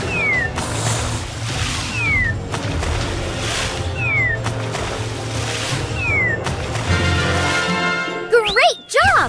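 A cat in the My Little Pony Harmony Quest mobile game sounds over busy game music with repeated chiming jingles and swooping tones, ending in a few rising, wailing meow-like calls.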